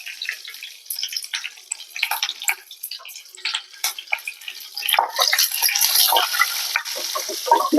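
Whole spices, curry leaves and whole green chillies fry and crackle in hot oil in a pan for a Tamil prawn gravy. The sizzle is close and continuous, with stirring scrapes, and it grows louder toward the end.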